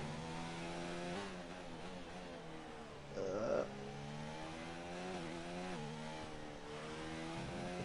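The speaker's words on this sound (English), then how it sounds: "His engine is turned up though, so he must be pushing." Race car engine pushing hard on a qualifying lap at an Australia circuit, a continuous high buzzing drone with rising and falling pitch as it shifts and revs, plus a brief louder burst midway.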